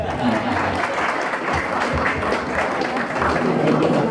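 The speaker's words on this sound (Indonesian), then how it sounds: "tepuk tangan yang keras." Loud applause from a crowd at an Indonesian community gathering, dense steady clapping that fills the whole stretch without a break.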